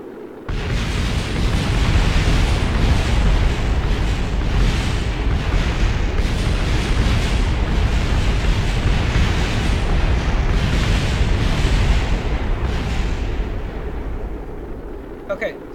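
A rocket breaks apart in Kerbal Space Program, a dense roaring rumble of explosions and crackling bursts sustained for about fifteen seconds without speech.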